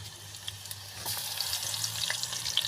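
Garlic and cumin dropped into a pan with cooked onion for tarri pohe sizzle and crackle steadily at close range, the hiss swelling after a second with faint stirring taps and no voices.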